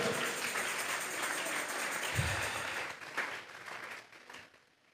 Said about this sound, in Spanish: De unas fuertes palmas a nuestro Dios